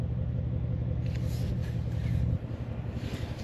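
Vehicle crossing a small bridge on a mountain smugglers' track in Andorra, a steady low engine rumble close to the microphone that drops slightly partway through, with no talking.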